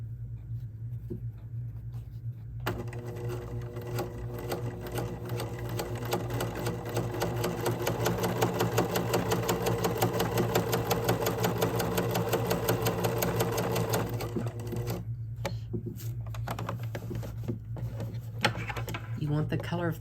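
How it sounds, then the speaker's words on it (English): A domestic sewing machine runs steadily, stitching a folded hem along the presser foot with gold thread in the bobbin. The motor whirs with rapid needle chatter for about twelve seconds, then slows and stops, with a low hum throughout. "I'm just going to run it right along my presser foot"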